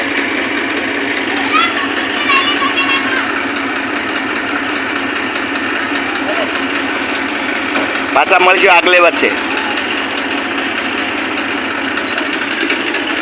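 A steady tractor engine drones throughout with people talking over it and a brief burst of louder clattering noise partway through.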